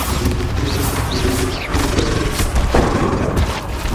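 Spell explosions from the Bombarda curse in a wizard video game, fought against a Graphorn, land as a series of heavy booms and crashes with bright whooshing bursts, loud and close over a few seconds.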